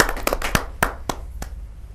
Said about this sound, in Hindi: तो जोरदार तालियों के साथ हम स्वागत करें